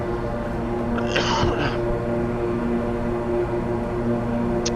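Twin turboprop engines of a King Air 350i in a flight simulator, sitting near 87% N1, hold a steady, even drone for the whole stretch, with one brief rustling burst early on.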